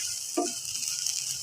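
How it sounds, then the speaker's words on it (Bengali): Dried fish (shutki) fries in a pan for a bhorta. A soft, steady sizzle carries on throughout, with a brief stirring scrape near the start, close and fairly quiet. "এখন আমি শুটকিগুলি দিয়ে দিব সিদ্ধ করার জন্য, ভাজার জন্য আর কি"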